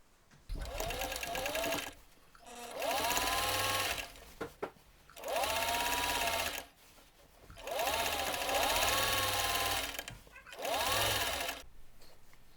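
A sewing machine stitches elastic casings on fabric for a milkmaid top or dress in five close, steady runs of rapid stitching, separated by short pauses.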